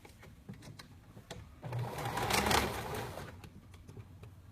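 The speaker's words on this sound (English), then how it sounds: "We're going to sew the sleeve right here," A sewing machine stitches a sleeve seam on a garment at a 3/8 inch seam allowance, its steady motor whir swelling louder in the middle of the run, close and alone without any talk.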